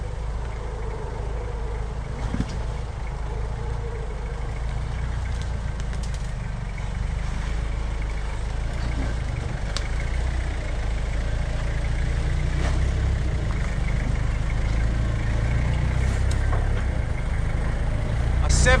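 A Toyota Hilux with a 2.8 diesel descends off-road on engine braking alone, a steady low engine drone running throughout with faint rattles, and a voice talking over it.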